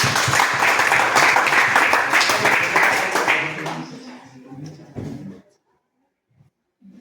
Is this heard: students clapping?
yes